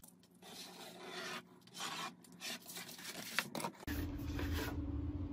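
Scissors cut a traced piece of cereal box cardboard out, making close, repeated rasping strokes in uneven bursts, followed by a steady low hum.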